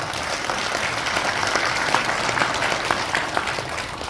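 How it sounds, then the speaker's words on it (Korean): A crowd at a vision declaration ceremony in Taebaek, South Korea, claps warmly and steadily, a dense, even patter of many hands heard at moderate distance for several seconds. "여러분 다시 한번 진심을 담아서 뜨거운 박수 부탁드리겠습니다."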